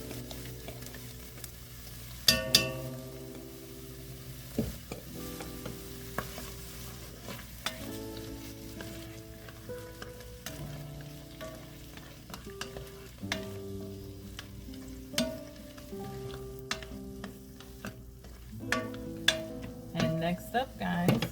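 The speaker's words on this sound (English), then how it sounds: "And now I'm going to add a tablespoon of my homemade sofrito." Homemade sofrito sizzles in a pot for green plantain soup, with steady frying and intermittent stirring clatter of a spoon against the pot, and some speech in the background.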